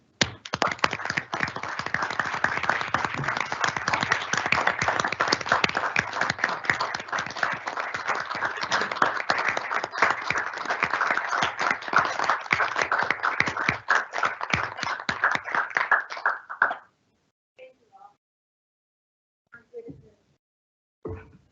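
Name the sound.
board meeting audience applause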